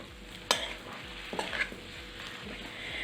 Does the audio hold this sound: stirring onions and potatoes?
yes